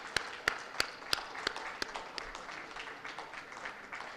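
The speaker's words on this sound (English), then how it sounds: "please join me in giving a standing applause to the two most dynamic members of parliament we have just heard speaking right now." Standing applause for two members of parliament at a Clean India Day event, heard as a handful of sharp separate claps early on, then a faint, thin patter of scattered clapping that trails away.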